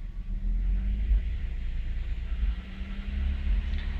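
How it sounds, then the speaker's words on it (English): Lexus ES300 engine, with a dirty MAF sensor, held at raised RPM around 1500, giving a steady low rumbling drone, close and fairly loud, with no speech. "I'm gonna raise the RPM and see what happens."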